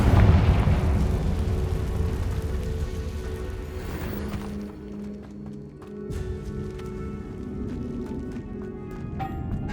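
Fiery Confringo spell blast in the Hogwarts Legacy video game, a loud burst of explosive roar up front that fades into layered game effects and low music over several seconds.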